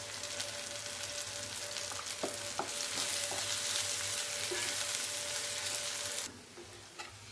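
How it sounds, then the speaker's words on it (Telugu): Chili powder and salt fry in oil for a gongura egg curry, giving a loud, continuous sizzle with a few stirring knocks. The hiss cuts off abruptly near the end, leaving a quieter background. "కొంచెం ఫ్రై అయింది."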